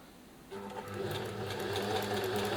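A serger (overlocker) starts up after a quiet moment and runs at a steady, fast mechanical hum with rapid needle clatter, close and continuous, and no talking.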